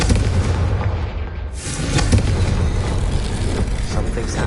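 Confringo blasting spell in Hogwarts Legacy: a loud booming burst with a rumbling tail, set within a continuous roar of game sound that briefly dips before the blast.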